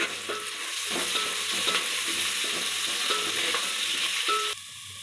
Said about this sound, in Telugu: ఇప్పుడు ఒక పెద్ద సైజు ఉల్లిగడ్డ, ఉప్పు, ఉల్లిగడ్డ తొందరగా ఫ్రై అవుతుంది